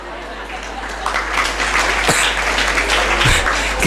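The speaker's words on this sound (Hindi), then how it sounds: "तालियां क्या बजा रहे हो?" Audience applause during a motivational talk on controlling anger. Loud, dense clapping builds within the first second and continues steadily, with a few voices murmuring underneath.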